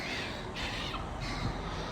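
Crows cawing loudly and repeatedly near a seafront, harsh calls overlapping with no talk.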